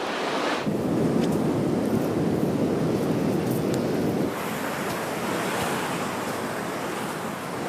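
Ocean waves wash onto the beach at Tarquinia in a steady, full roar of surf, with wind buffeting the microphone throughout and no voices.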